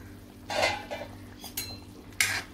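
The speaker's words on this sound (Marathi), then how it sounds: "आता 5-6 मिनिटं झालेले आहेत, आपण झाकण खोलूया।" A few quiet metallic clanks and clinks as a pot lid is lifted off a simmering vegetable and bean curry and handled, with short pauses between the knocks.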